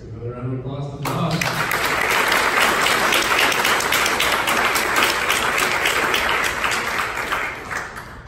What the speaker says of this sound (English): let's give another round of applause to Tom.